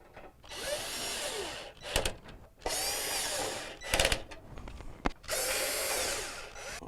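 A power drill drives quarter-inch screws into the rear control panel cover of a Whirlpool dryer. It gives three loud, sustained whirring bursts, each a second or more long, with short clicks and handling noises between them.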